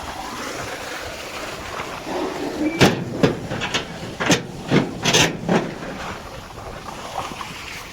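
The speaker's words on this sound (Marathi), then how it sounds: "बघू शकता मोटर चालू केली आपण" Farm water pump motor running outdoors in a field, a steady broadband hum and wash with a series of sharper bursts in the middle, fairly close and alone without talk.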